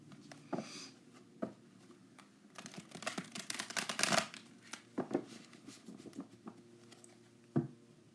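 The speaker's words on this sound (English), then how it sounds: "Let's shuffle one more time and then we'll be good." Tarot cards are shuffled by hand in a quiet room, with soft riffling bursts and taps that swell into a longer dense flurry midway, then a few scattered card slaps.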